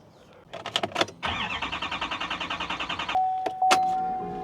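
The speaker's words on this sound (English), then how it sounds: "It just cranks and cranks and cranks." A Duramax diesel truck engine cranks steadily with a rhythmic starter whir for about two seconds but never catches, preceded and followed by clicks and a brief tone.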